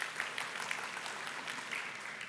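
A lecture audience claps briefly in a hall, a soft scattered patter of hands that fades within a couple of seconds, fairly faint and distant.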